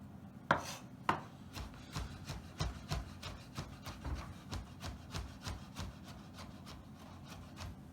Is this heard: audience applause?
no